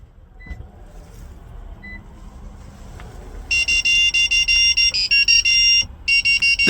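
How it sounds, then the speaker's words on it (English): A run of loud, high electronic beeps in quick pulses from a 2006-2007 Lexus GS 430 confirming key fob programming, a pause, then two more, following a quiet stretch with a few faint tones. "wait for a few seconds until you hear the beeping sound indicating programming is successful"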